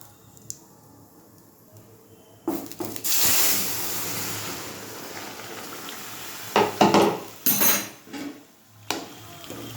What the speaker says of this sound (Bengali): এবারে তরকারিটা আমি ঢেলে দেবো